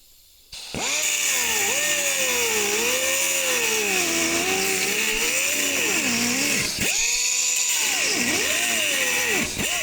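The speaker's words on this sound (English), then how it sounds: "So get my grinder out, start cutting this out." An angle grinder cuts out welded steel on a 2003 18-foot tilt bed trailer, giving a loud, continuous whine that starts abruptly and rises and dips as the load changes.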